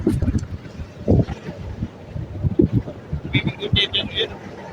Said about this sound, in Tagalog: Grabe ang hangin naman sa spot na ere.